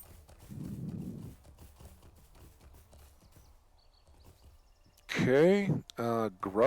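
Horse hooves clip-clop in the online game Lord of the Rings Online, a quick, regular patter of hoofbeats, followed near the end by a person talking loudly.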